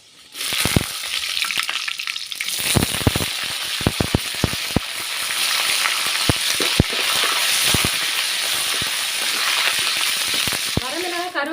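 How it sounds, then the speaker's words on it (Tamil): Fenugreek seeds, dried red chillies and curry leaves frying in hot oil make a loud, steady sizzle with sharp crackles and pops, plus a few spoon-against-pan clinks. "எண்ணெய் சூடாயிட்டு வெந்தயம் சேர்த்துக்கிறேன்"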